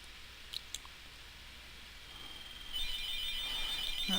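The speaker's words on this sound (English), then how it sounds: "Phone's ringing." An electronic telephone ringtone starts partway through as a steady, repeating high electronic trill, fairly clear against a quiet room with a couple of faint clicks before it.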